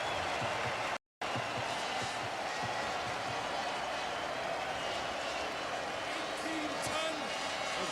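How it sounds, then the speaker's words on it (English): A 1991 ice hockey crowd in an arena roars after the Swiss goal against Czechoslovakia, a dense, steady wall of cheering and noise that carries on throughout, with a commentator's voice faintly underneath. "look at this crowd"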